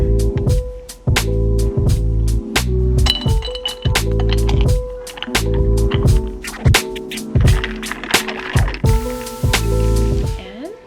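Ginger juice and blackstrap molasses are stirred into a matcha drink in a cup, with a steady run of clinks and scraping taps from the spoon against the cup, close and fairly loud.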